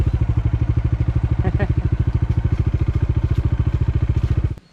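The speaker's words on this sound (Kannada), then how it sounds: "ಟ್ರಾಫಿಕ್ ತುಂಬ ಇದೆ, ಜಾಮ್ ಆಗಿದೆ." Motorcycle engine idling close by in a traffic jam on a road in Hampi, a steady rapid putter running for several seconds before cutting off abruptly at the end.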